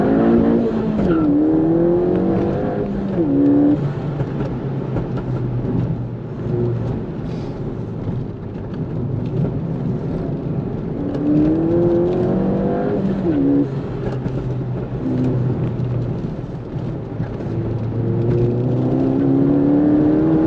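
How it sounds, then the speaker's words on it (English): Ford Fiesta ST with a stage 2 exhaust making 230 hp, driven on a B road, gives a steady throaty engine drone with rising and falling rev sweeps through gear changes, loud and continuous with no talking. "It sounds decent, a little bit throaty out the back, does its little pops and bangs, but it isn't obnoxious."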